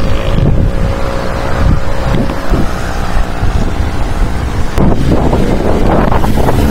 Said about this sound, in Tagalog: Grabe ang lakas ng headwind.